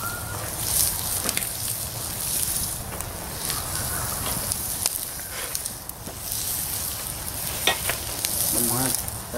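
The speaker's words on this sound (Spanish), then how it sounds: "para freír la cebolla." Chopped onion frying in a spoonful of olive oil, a steady, close crackling sizzle that holds throughout with a few small clicks and stirring scrapes.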